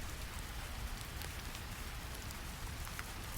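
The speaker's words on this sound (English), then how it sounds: "Rain sounds drift across the valleys." Soft, even rainfall patters steadily on surfaces, a faint continuous hiss with scattered droplet ticks and no voices.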